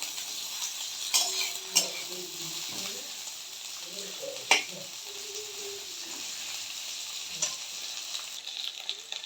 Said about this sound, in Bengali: উচ্ছেগুলোকে দিয়ে দিয়েছি, একটু নাড়িয়ে দেবো ভালো করে,